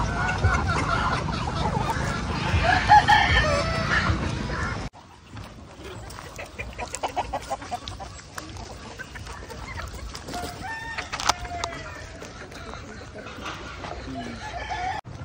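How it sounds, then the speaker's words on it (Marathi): Free-range desi hens and roosters on a poultry farm cluck busily at close range, with a rooster's crow rising out of the flock's noise. A faint background hubbub runs under the birds. "सो आता बघाल तर इथं खूप जास्त प्रमाणात गावरान कोंबड्या आहेत."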